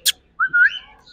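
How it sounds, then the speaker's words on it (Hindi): A semi-tame male plum-headed parakeet gives a short sharp chirp, then a clear rising whistle that wavers and trails off. It is close and fairly loud. "इसमें जो नर है सेमी टेम है और सीटियां विस्लिंग वगैरह करता है"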